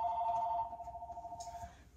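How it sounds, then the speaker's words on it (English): A landline telephone bell rings in a steady electronic warble lasting well over a second, fairly close and loud, then stops, with faint room noise around it. "And phone's ringing"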